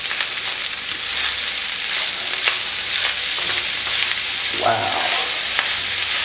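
Special fried rice sizzles steadily in a single pot while being stirred, a continuous close frying hiss with occasional scraping; a person briefly exclaims.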